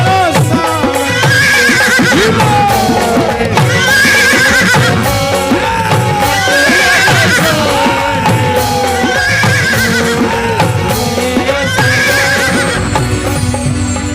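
A horse neighs repeatedly in loud, whinnying calls, with some clip-clopping hooves. It sits within a devotional performance about a blue horse and fills the whole stretch without any speech.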